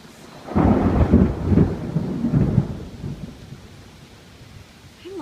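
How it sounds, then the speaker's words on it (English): Loud rolling thunder rumbles through a rainstorm, swelling for about two seconds before fading into a softer hiss of rain. "I love the sound of thunder."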